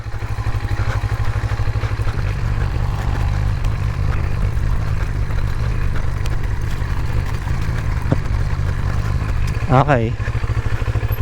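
An NK400 motorcycle climbs uphill under throttle, its steady engine drone running close and loud throughout, with a brief rising whine near the end and a voice speaking once.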